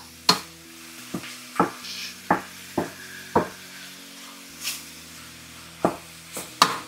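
Pork belly sizzles with shallot and garlic in a pan while a spatula stirs it, giving about a dozen sharp scraping knocks over a steady frying hiss, close and fairly quiet.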